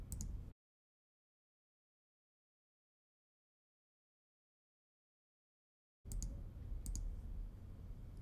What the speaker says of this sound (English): I'm going to click once and it's going to make a vector. And then I just keep clicking all the way around.